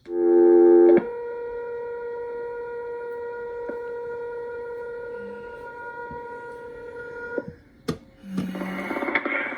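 A steady high telephone office tone at Morgantown, Pennsylvania, sounding before an intercept recording: a sustained electronic pitch with harmonics, holding evenly for several seconds before clicks and a burst of noise near the end.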